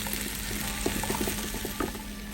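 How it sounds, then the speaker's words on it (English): Diced celery and jalapeno sauteing in a pan for Tex-Mex turkey chili give a low, steady sizzle with scattered light pops and stirring taps, close and fairly quiet, with no talking. "Our jalapeno and celery have been sauteing for a minute"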